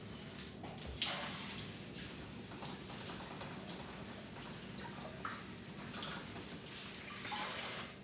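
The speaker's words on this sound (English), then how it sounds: "I'm just gonna rinse it." Fresh produce rinsed under a running kitchen tap, with water streaming and splashing steadily and faintly for several seconds and small spatters and clinks over the flow.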